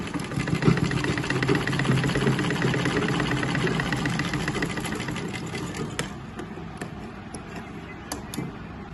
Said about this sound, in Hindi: यहाँ से हम इसको ऐसी लंबी वाली सिलाई लगा के फिर हम तोड़ देंगे इसको